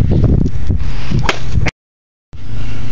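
A single sharp crack of a golf club striking a tree cuts through windy outdoor rumble, followed by a brief total silence before the ambient noise resumes.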